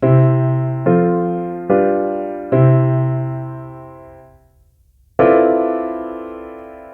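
An ear training app plays clear, sustained synthesized scale tones, four notes in a row each decaying, a brief silence, then one more note ringing out.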